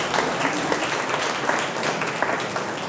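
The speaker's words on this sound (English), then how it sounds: "Give yourselves a round of applause, you guys." Audience at a community roundtable on gun violence applauds, steady dense clapping filling the room at close range throughout.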